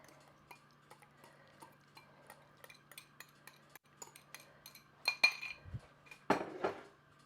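Metal whisk clinking and scraping against a bowl while mixing an oil and acid salad dressing, soft irregular taps building to a few louder bursts of stirring near the end, with no talking.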